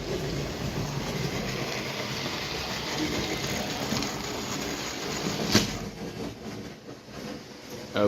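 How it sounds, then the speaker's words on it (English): A Class 8 model train runs on a seaside Christmas layout, giving a steady rolling rumble with faint wheel clatter throughout and one sharp click partway through. "There's the Class 8 on its way, and we shall get some footage of these trains running."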